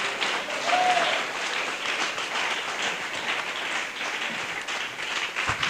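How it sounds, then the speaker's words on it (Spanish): A church congregation applauding during a Sunday morning service, a full, continuous round of clapping from many hands that holds steady throughout, with faint voices mixed in. "Si ese aplauso es para el Señor,"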